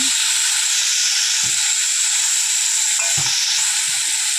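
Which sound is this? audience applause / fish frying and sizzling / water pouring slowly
fish frying and sizzling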